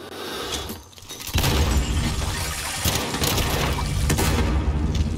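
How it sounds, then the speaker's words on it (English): A grenade detonates in the video game Modern Warfare, a sudden loud boom with shattering debris that gives way to a dense, sustained rumble and crackle. "I'm cooking a nade for him."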